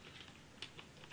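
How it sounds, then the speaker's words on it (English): Soft, quiet taps of a computer keyboard being typed on, a handful of light irregular keystrokes over a faint steady background hiss. "Can you guys hear my keyboard?"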